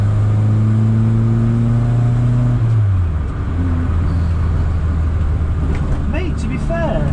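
A Ford car's engine drones and revs while driving, with a steady low hum that drops in pitch partway through as the car shifts, loud and close from inside the cabin.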